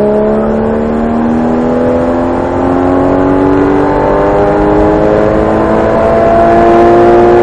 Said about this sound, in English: accelerate all the way to that far right side blue cone